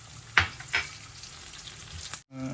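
Cashews frying in ghee in a pan, a steady soft sizzle with a couple of brief stirring scrapes, close and fairly quiet, no voices.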